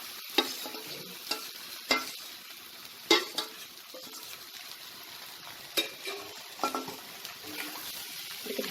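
Marinated soya chunks stirred into fried onions in a hot pan: a steady sizzle with repeated scraping and clinking spoon strokes, close and fairly loud, with no talking.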